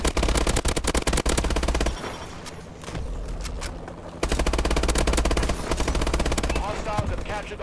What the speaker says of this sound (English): Alright, I got a sentry gun.